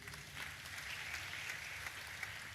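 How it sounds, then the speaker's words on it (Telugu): A church congregation claps together, a steady wash of applause from many hands. It holds at an even level for a few seconds, quiet and somewhat distant, with no talking over it. "చప్పట్లు కొట్టండి మా ఊడికి."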